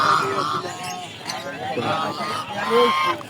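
Royal and native ducks and geese honk at a rural poultry market in Golakandail, with several nasal calls rising over a steady hubbub of nearby voices.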